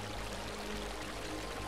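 Water being placed and taken back up in the video game Minecraft, a continuous rushing, streaming wash at moderate level with no voices.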